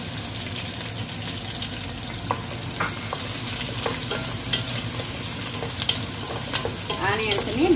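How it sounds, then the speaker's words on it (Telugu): Onions fry in hot oil in a home kitchen pan, a steady broadband sizzle with some stirring scrapes. Near and moderately loud throughout, with no talk. "ఆనియన్స్ వేయాలి"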